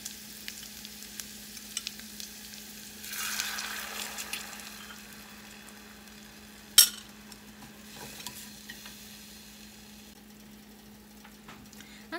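Shrimp and pork dipping sauce bubbling in a pot on the stove, a soft steady simmer with a faint hiss that swells midway, plus an occasional utensil clink against the pot.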